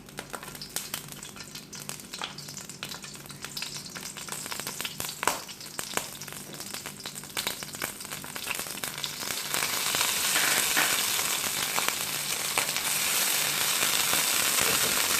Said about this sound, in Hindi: फ्लेम को मैं स्लो रखूंगी और साथ ही मैं इसमें मक्खन भी ऐड कर दूंगी।